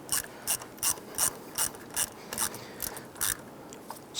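A ratchet tightening a battery terminal bolt on a 1995-2001 Ford Explorer clicks in about ten quick, evenly spaced bursts of pawl clicks, close and crisp with no voices.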